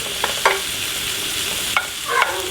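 Bacon for chicken carbonara frying in a pan gives a constant close sizzle, broken by three or four scraping strokes of a wooden spoon as the pieces are broken up and stirred.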